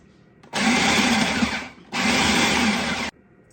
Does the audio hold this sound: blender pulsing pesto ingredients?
yes